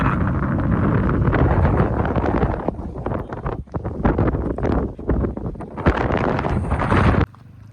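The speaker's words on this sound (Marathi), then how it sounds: "वारा बघ ना" Strong gusting wind blows beside a dam wall on a lake, buffeting the microphone with loud, roaring bursts that rise and fall throughout before cutting off.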